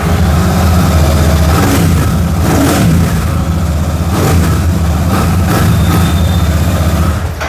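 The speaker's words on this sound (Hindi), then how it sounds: "ये हो जाती है आपकी शॉटगन की आवाज़।" A 2024 Royal Enfield Shotgun motorcycle engine revs up close and loud, its deep, throbbing exhaust rising and falling in several throttle blips over a steady rumble.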